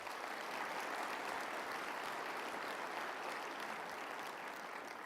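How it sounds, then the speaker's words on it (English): A steady wash of audience applause fills a room after remarks by Michigan's governor, dense and even throughout with no voices standing out. "Let's give them a round of applause."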